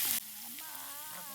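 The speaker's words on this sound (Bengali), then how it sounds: "এখানে দেখেন মাছগুলো কীভাবে ভাজা হচ্ছে" Fish fry in hot oil with a soft, steady sizzle, faint and continuous after a brief louder burst at the start.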